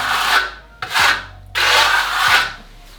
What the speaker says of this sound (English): with the coarser Venetian plasters is that there's a little bit of chatter